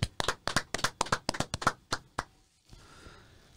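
About a dozen sharp hand claps ring out in a quick, slightly uneven run, loud and close. A short silence follows, then quiet room noise.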